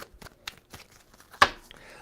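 A tarot card deck being shuffled by hand, two or three quick riffling bursts ending in one sharp snap of cards, close and crisp with brief soft rustles between.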